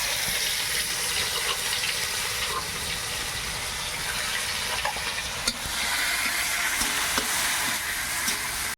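Chilies, bay leaf and garlic sizzle in hot oil in a kadai, a steady close crackle with occasional stirring scrapes and no voices.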